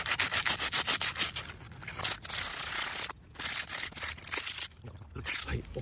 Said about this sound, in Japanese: じゃこれをちょっと紙やすりで削って洗って終わりにしましょう。